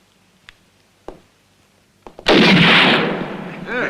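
Gunfire in a spaghetti western shooting contest: a few faint, scattered pops, then a loud close gunshot whose echoing boom rolls on for over a second and swells again at the end.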